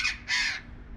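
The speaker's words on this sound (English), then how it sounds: "Okay, parrots." Two harsh, loud squawks from parrots at Budapest Zoo, a short call and then a longer one, close by with no voices.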